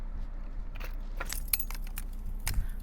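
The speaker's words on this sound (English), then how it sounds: "I'm gonna go back and put a lock on my trailer" A truck driver fits a lock on a trailer, with a short metallic jangle of keys and lock clicks close by over a steady low engine idle.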